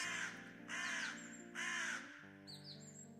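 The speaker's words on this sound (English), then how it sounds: "These birds are loud as hell as well." Crows cawing in a Minecraft game, three harsh, loud caws in a row with a shorter call at the end, over a steady musical tone.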